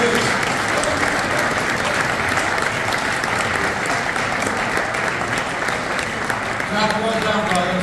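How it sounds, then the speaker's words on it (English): Loud, sustained applause from the audience at the AHEPA Chapter 25 centennial celebration, dense steady clapping filling the room for the whole stretch with a few voices rising faintly near the end. "deserve a very, very loud and warm round of applause"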